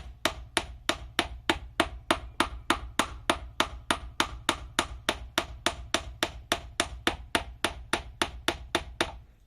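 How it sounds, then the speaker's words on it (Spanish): A small hammer strikes a wire spiral on a tiny anvil in a steady, even rhythm, about two sharp metallic taps per second, close and alone, while shaping a four-leaf clover wire pendant. "Entonces martillamos nuestra espiral y esta parte."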